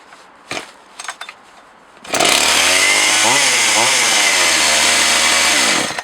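A Partner 20 chainsaw starts after a few handling knocks and then runs loudly, its engine droning steadily with a couple of quick revs before settling near the end.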